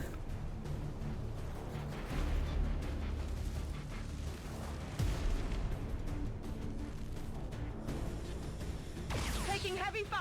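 Gunfire and explosions crack and boom in the turn-based strategy game XCOM 2 (Long War mod) as troops take heavy fire, a dense, loud barrage of bursts running continuously under a rumbling battle bed.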